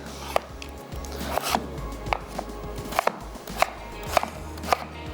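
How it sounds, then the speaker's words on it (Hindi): A knife chops potatoes steadily on a cutting board, crisp regular thuds about twice a second, close up, with faint bubbling of boiling water in the background. "तो आलू भी काट लेते हैं"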